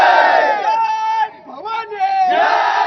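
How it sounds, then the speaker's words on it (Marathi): Large crowd of devotees celebrating at Raigad fort, loud massed chanting and cheering in rising and falling waves, with a short dip midway before the shouts swell again. "शिवभक्तांनी आनंद व्यक्त करत किल्ले रायगडावर जल्लोष केलाय"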